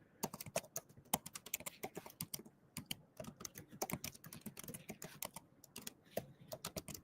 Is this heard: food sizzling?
no